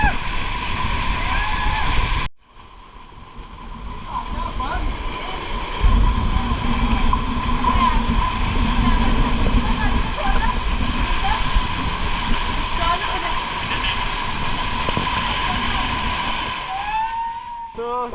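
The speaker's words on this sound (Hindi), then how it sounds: "बहुत फोर्स में यार पानी।" Water rushes forcefully at AquaMagicaa Water Park in Surat, Gujarat, a loud continuous hissing roar that briefly drops out, then resumes steadily with splashing.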